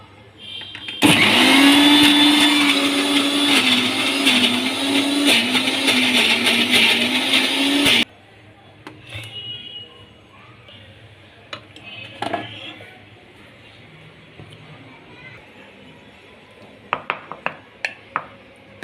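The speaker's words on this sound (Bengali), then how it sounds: "একদম লাল মরিচ ব্লেন্ডারে পিষে নিয়েছি।" A blender grinds red chillies, a loud, steady high whine lasting about seven seconds before cutting off, followed by quiet kitchen clinks and clatter.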